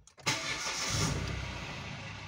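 A car's starter cranks briefly and the engine catches, settling into a steady, close idle that hums on without talk.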